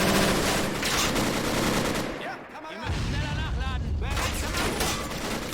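Intense gunfire in Men of War: Assault Squad 2 during a tactical armored advance on Kursk: dense, continuous machine-gun and rifle bursts that dip briefly midway, then surge again, with a voice talking over the shooting.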